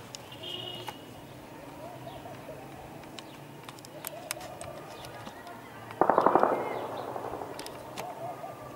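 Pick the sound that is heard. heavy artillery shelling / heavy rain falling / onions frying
heavy artillery shelling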